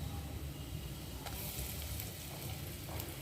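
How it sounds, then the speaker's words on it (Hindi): Cumin seeds sizzle in hot oil, a steady, close crackling hiss that holds evenly throughout, with a few sharper pops and a soft stir scraping underneath. "तेल गरम हो गया है तो जीरा डाल दिया हमने, और जीरा तड़कने के बाद हम इसमें डालेंगे हींग"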